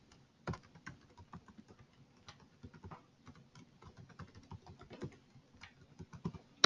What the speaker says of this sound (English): So I just go type a password.